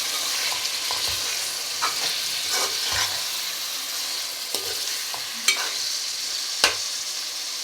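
Chicken being stirred into ginger garlic paste and onions frying in oil, a steady sizzle with scattered spoon scrapes and clinks against the pan, close and clear with no talking.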